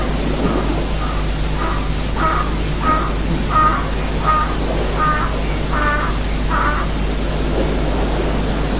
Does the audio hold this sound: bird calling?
yes